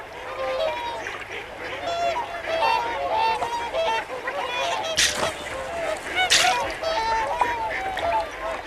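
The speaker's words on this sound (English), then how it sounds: "Yes, these are wild swans, normally shy and very wary of people" Wild swans on flooded wetlands of the River Ouse calling in a repeated honking chorus, several birds overlapping at close to moderate distance, with brief splashy bursts of wing or water noise.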